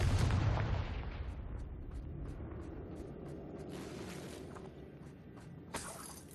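A Confringo fire spell from Hogwarts Legacy on Switch 2 goes off in a loud burst that rumbles and slowly fades, with a faint crackle near the end.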